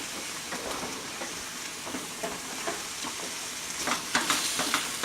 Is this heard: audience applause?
no